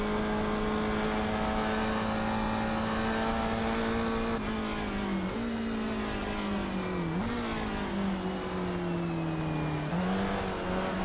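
A 1960s GT race car in Assetto Corsa at Goodwood, its engine droning loud and close, holding a high steady note then dipping and rising through several throttle lifts during a slide, no talk.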